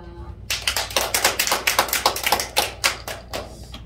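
A congregation at a Korean church revival service bursts into brisk, close clapping after a brief quiet start, many sharp claps piling up and then thinning out toward the end.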